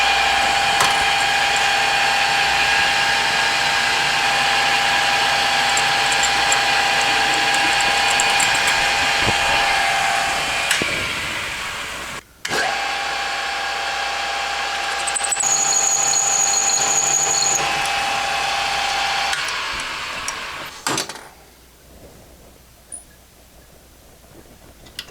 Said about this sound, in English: center drill this piece right here so I can use the tailstock to support